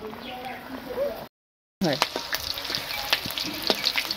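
Maggi instant noodles cooking in a pot on a home stove, giving a steady close sizzle and bubbling with scattered clicks and stirring sounds, broken by a brief silent gap, with faint background voices.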